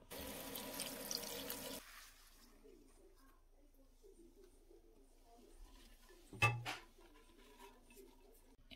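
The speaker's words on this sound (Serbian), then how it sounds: "latice odvoje od ostatka cveta, brzo provuku kroz vodu kako bi se uklonile eventualne bubice" Rose petals are rinsed quickly under running water, with a short burst of rushing, splashing water at the start, then near silence with soft outdoor bird cooing and one brief knock.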